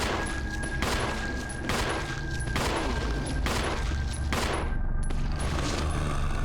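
Rapid repeated gunshots fired in the Resident Evil video game, several loud evenly spaced cracks over a steady background drone, with a short break before the last shots.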